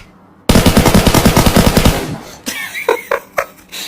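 An automatic gun fires in the PUBG Mobile video game: a loud, close rapid burst of about fifteen shots over a second and a half, followed by a few scattered single shots and impacts.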